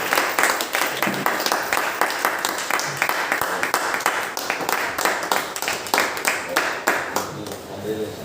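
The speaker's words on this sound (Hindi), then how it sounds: "त्यांची सुद्धा जोरात तालीमध्ये स्वागत करू" An audience applauds at a certificate-giving meeting with continuous, dense clapping, while a voice talks over it.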